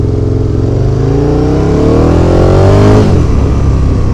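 A V-twin motorcycle engine revs hard and close, its pitch climbing steadily for about three seconds before dropping back to a lower, rougher note, with no talk.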